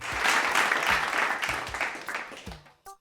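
A studio audience at a Malayalam comedy stage show claps loudly and steadily, with no single clap standing out, before the applause thins and fades near the end.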